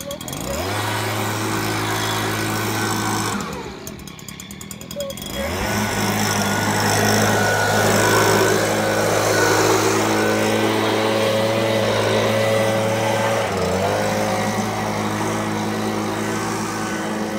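A Stihl SH 56C leaf blower runs loud and close with a steady engine drone, dipping briefly before revving back up and blowing continuously.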